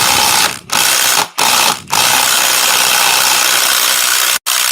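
A wrench ratchets continuously against a bolt on a spare engine with a rapid metallic clicking, pausing briefly three times early and once more near the end.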